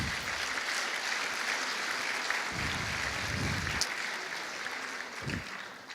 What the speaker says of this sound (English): Could you please give them a round of applause and thanks?